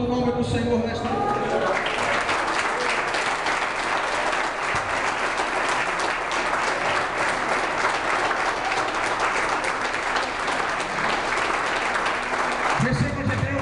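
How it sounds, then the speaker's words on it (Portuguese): A church congregation at an evening evangelistic service breaking into sustained, loud applause that fills the room for over ten seconds, with voices mixed in at the start and end. "Aplauda o nome do Senhor nesta noite."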